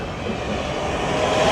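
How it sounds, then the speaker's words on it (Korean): A tram rolls past a sunny open-air market in Kaohsiung, Taiwan, a steady close rumble of rail wheels and car body that swells slightly as it goes by, with no talk. "이렇게 트램도 지나가요, 트램."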